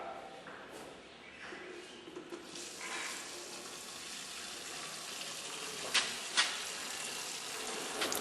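Water runs from an inlet tap into a tank set up to demonstrate liquid pressure, a steady, fairly quiet rushing hiss that keeps going throughout, with a couple of brief splashy spikes.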